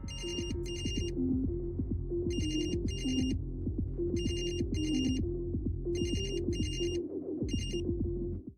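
A mobile phone rings with a loud, steady electronic ringtone, repeating bursts of a bright melodic pattern over a sustained tonal bed, continuing unanswered for several seconds.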